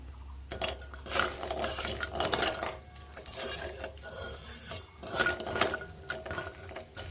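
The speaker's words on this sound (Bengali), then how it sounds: "বড়িগুলোকে এইরকম লাল লাল করে ভেজে নিচ্ছি উল্টে পাল্টে" Pumpkin lentil dumplings fry in a little oil in a kadai while a spatula turns them, giving repeated metallic scrapes and clinks over a soft low sizzle, close and irregular, with no talking.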